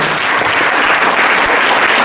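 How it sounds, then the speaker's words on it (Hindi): Dense, steady audience applause from a classroom or seminar crowd, loud and continuous throughout with no talk over it. "सो अगेन मैं चाहूँगा कि जोरदार ताली हो जाए"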